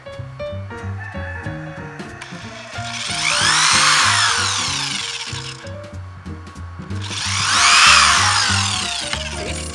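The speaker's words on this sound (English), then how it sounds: "All right, time to drill." A power drill whines up and bores through material twice for an outdoor advent calendar craft, each burst rising and falling, over a steady thumping beat of background music.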